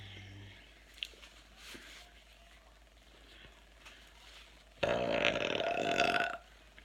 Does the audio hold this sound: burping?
yes